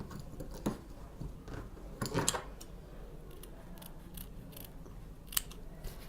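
Scissors cut through hat brim fabric in a few quiet, crisp snips with pauses between them, heard alone in a hushed room.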